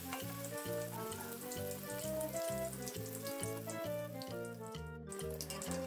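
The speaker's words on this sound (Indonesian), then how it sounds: "Setelah minyaknya panas, langsung aja kita masukin lumpianya" Spicy meatball spring rolls (lumpia bakso) fry in hot oil with a steady crackling sizzle throughout, set under loud rhythmic background music.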